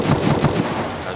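Rapid gunfire from an AP20 in a shooter video game rattles in a dense, continuous burst of several close shots, loud and steady throughout.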